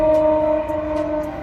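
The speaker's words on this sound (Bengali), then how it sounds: "এই সামনে দিয়ে ট্রেন যাচ্ছে," A train passing close by homes next to a banana grove, heard as a loud, steady drone with strong sustained tonal hum and a few faint higher clanks over it, alone without voices.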